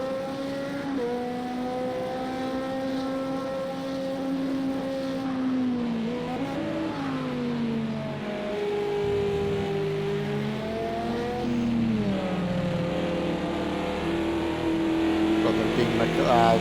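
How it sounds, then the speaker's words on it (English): A McLaren GT3 race car's engine at Silverstone during a 24-hour endurance race, a loud sustained drone whose pitch rises and falls as it accelerates and shifts, heard near and continuous with commentary-style talk over it. "Beefy McLaren by the sounds of that, making some noise."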